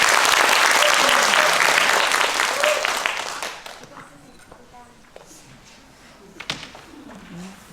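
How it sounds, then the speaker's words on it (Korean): An audience at a Bookstart library event applauds to welcome a speaker: loud dense clapping that dies away after about three seconds, followed by a quiet room with a few scattered claps, soft knocks and faint voices. "박수로 맞이하겠습니다."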